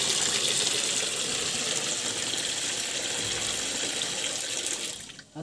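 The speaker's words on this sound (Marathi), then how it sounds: "तर यात थोडं मी पाणी घालतो." Water poured into biogas slurry to dilute it about half and half makes a steady, close splashing gush that runs for several seconds, then tapers off and stops, with no talking.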